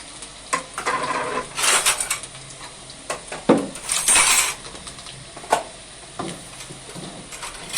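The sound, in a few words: putting away dishes, pots and pans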